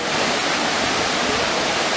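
A waterfall pours into a pool in the Çatak canyon at Pınarbaşı Ilıca, making a loud, steady, close rushing roar that stays unbroken throughout with no talk.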